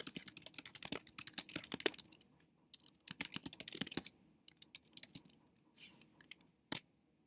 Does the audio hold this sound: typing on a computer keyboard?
yes